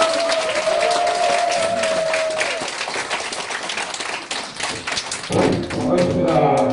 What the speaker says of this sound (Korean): 배정훈 학과장님을 모실 테니까 여러분 이번에는 힘찬 박수 박사로 힘차게 모셔주시기 바랍니다.